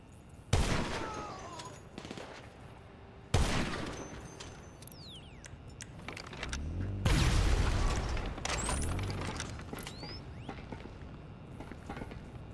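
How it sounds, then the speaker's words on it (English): Pistol gunfire in GTA V Online comes as several sharp, loud bursts of shots at irregular intervals, with rumbling booms and game effects between them. "These guys are shooting pistols."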